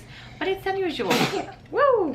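A woman sneezes once, a short explosive burst amid her own speech, with talking before and an exclamation right after.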